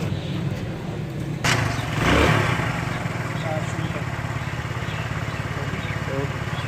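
A Honda CD 70 motorcycle engine idles steadily close by with a fast, even putter, briefly rising around gear engagement before settling back.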